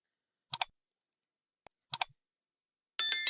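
Computer mouse buttons clicking in sharp, isolated double clicks at close range, separated by silence, with a brief burst of higher clatter at the end.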